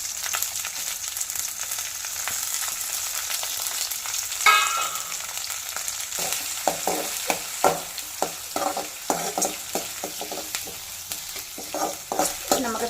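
Garlic cloves and shallots frying in a pan with a steady close sizzle, joined halfway through by a run of sharp scraping stirs and knocks that repeat in an uneven rhythm.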